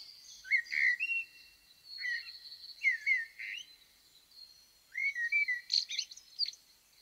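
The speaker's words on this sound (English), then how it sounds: "What associations do you have with the blackbird?" Blackbird singing alone: a series of clear, fluting, warbling phrases separated by short pauses, fairly close and moderately loud against a quiet background.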